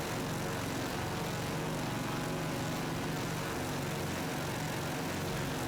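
A Boeing 247D's propeller engines in Microsoft Flight Simulator 2024 drone steadily as the throttle is adjusted, a dense, even roar that holds at the same level throughout with no talking.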